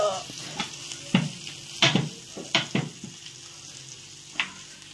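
Fish fries on a flat tawa with a soft continuous sizzle, broken by a few sharp clinks and scrapes of a utensil. Faint background voices are present.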